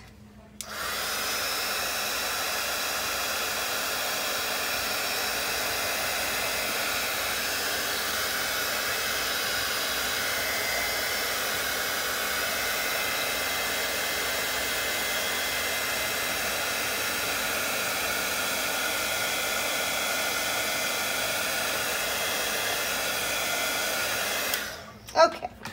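A heat embossing tool melting embossing glaze on a magazine collage, a steady loud blower whir running continuously for about 24 seconds before clicking off with a small handling thump.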